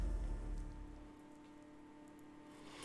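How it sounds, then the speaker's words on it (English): Rain in the racing game Assetto Corsa Competizione, a steady, soft hiss of rainfall with a low engine hum beneath, quiet and continuous. "We're going to go try it out in the rain."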